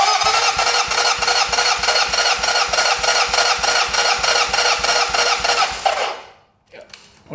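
A one-owner Honda CB750 engine cranks with the throttle open during a compression test, a fast, even chugging of starter and compression strokes for about six seconds, loud and close, then stopping abruptly into near silence.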